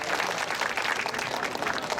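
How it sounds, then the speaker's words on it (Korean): A gathering at an outdoor Catholic prayer Mass on Gwanghwamun Square in Seoul gives thanks with brief applause, a fairly soft but steady patter of many hands heard from a distance. "이분들께도 감사의 박수 부탁드리겠습니다."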